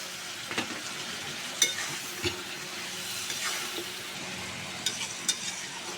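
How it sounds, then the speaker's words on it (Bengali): Steady close sizzle of eggplant added to a frying sea fish (ritha) curry, with scraping stirs and occasional spoon knocks against the pan, no talk. "এখন আমি কিছুটা বেগুন এড করে দেব"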